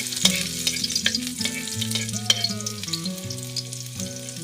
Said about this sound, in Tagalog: At dahil mainit na yung mantika, ilagay na natin yung bawang.